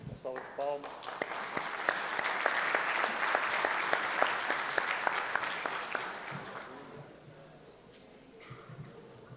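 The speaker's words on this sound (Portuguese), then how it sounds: "Uma salva de palmas." An audience at a Brazilian national road maintenance conference applauds a speaker, with dense clapping that swells over several seconds and then tapers off to scattered claps.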